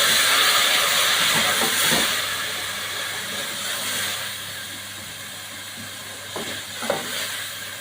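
Water hits hot frying onions, ginger and garlic in a pan, giving a steady, loud hissing sizzle that slowly fades, with a few small pops and clinks near the end.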